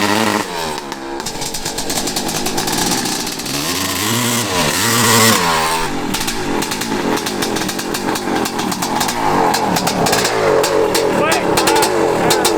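A worn 1985 Honda CR500 two-stroke dirt bike engine runs loud and close, its rough, uneven idle rising and falling with some blips, filling the whole stretch.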